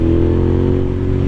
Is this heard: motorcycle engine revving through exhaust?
yes